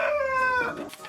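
A heritage-breed rooster crows loudly and close by, one long drawn-out call that trails off into softer clucking.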